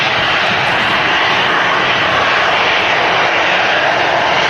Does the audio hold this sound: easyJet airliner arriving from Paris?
yes